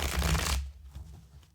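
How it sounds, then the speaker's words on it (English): Playing cards shuffled for a pick-a-card tarot-style reading, a short dense riffle of papery rustling that stops abruptly, leaving quiet room tone. "So let's start with shuffling, and we're going to be picking 5 cards"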